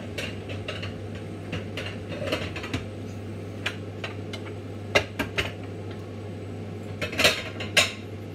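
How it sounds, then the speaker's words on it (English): Finished biko being put into a pan, scattered clinks and knocks of metal pans and utensils, sharper clatters toward the end, over a steady low hum. "I will put this in the pan"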